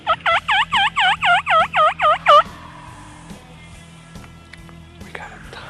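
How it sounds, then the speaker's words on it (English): A wild turkey tom gobbles at sunrise from below the hillside, a loud rapid run of about nine warbling pulses over two seconds, then fading into quiet outdoor ambience with faint background sounds. "Just heard a bird gobbling down below us"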